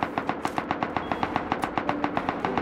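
Rapid automatic gunfire in the survival video game Rust, a steady burst of about fifteen evenly spaced loud shots fired in quick succession, close and clear with no talk over it.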